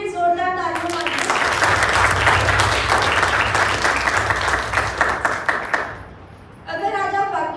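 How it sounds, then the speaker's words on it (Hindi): A church congregation at a Sunday service breaks into loud, dense applause lasting several seconds, bracketed by a preacher's voice speaking just before and after. "एक बार परमेश्वर के लिए जोरदार तालियां मारिए।"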